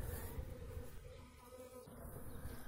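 A settled honeybee swarm gives off a steady, dense insect buzz, continuous and moderately loud throughout, with no voices over it.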